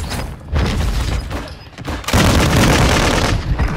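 A player's rapid automatic gunfire in a shooter game comes in two loud, close bursts separated by a brief lull, dense and crackling with booming low end.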